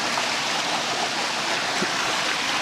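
Water running through shallow rock pools at a hidden waterfall in Tagaytay, a continuous close babbling rush with no voices.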